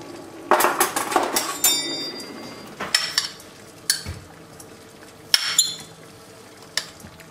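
Kitchen clatter as chocolate and butter go into a small bain-marie pan: sharp clinks of utensils against metal and glass, scraping and knocking in irregular bursts, close by, with quiet gaps between.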